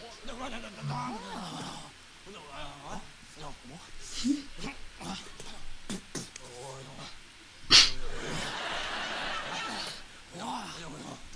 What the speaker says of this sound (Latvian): Es nesmējos, es nošķaudījos.